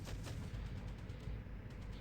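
Rapid gunfire from a buckshot-style weapon fired at close range in a video game, a dense continuous burst of loud overlapping shots with no talking.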